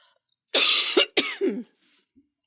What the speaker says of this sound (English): I had to cough.